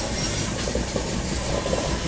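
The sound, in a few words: Pushpak Express train arriving at a crossing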